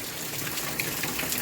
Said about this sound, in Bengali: সারাদিন এখন বৃষ্টি পড়বে